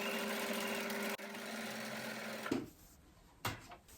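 A sewing machine runs a straight stitch along a fabric seam, a steady fast whirring hum close by that stops abruptly, followed by quiet handling noises and a short extra burst.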